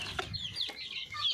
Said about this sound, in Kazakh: Міне 2 ай балапандар